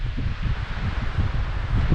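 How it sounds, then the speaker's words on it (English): Strong wind gusts shake trees in a Pacific Northwest woodland in April, a loud rushing and rustling of leaves with heavy buffeting on the microphone, continuous and close. "we're getting some serious gusts of wind"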